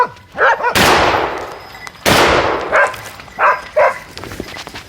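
Two sharp, loud gunshots ring out during a boar hunt with dogs, each with a long echoing decay, while short bursts of dog barking come between and after them.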